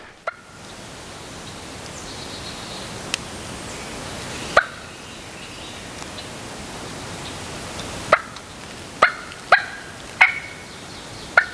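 A wild turkey gobbles in the distance over a steady outdoor hiss, several faint, separate calls spaced a second or two apart that cluster toward the end.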